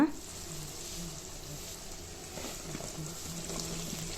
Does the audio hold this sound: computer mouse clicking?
no